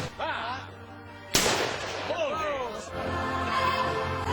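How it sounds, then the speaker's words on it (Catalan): A single sharp, booming blunderbuss blast cracks out between stretches of people talking and calling nearby, during a pine tree festival tradition in Centelles. "El pi es marca amb trets de trabuc."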